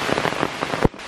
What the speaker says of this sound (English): As soon as we hit the Smokies, it starts pouring down rain.